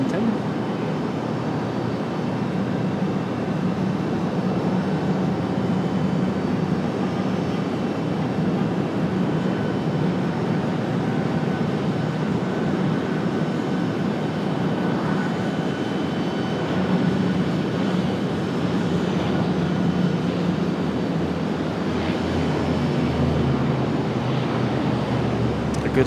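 A FedEx ATR turboprop from Wilmington passes close by at Raleigh-Durham International. A steady, broad engine rumble with some wind noise runs at an even level throughout.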